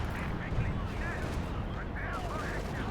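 A tank gun fires in the war strategy game Company of Heroes 2, the shell bouncing off armour, amid a dense, steady din of battle gunfire and rumble, with a voice talking over it.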